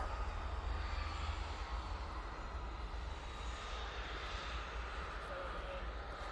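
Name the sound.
airplane taking off at Manchester Airport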